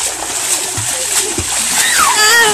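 Water splashes and sloshes in a swimming pool in repeated bursts, with children's voices talking and calling out over the splashing.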